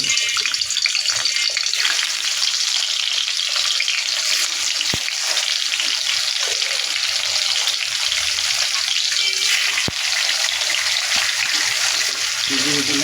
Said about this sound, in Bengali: এবার সব সবজিগুলি ভেজে নেব